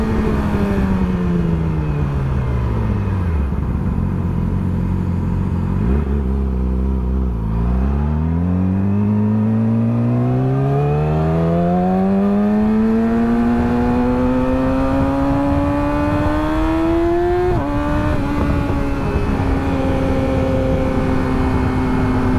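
A motorcycle engine runs loud and close on the road, its pitch falling, then climbing steadily through the gears before a shift near the end, with no talk.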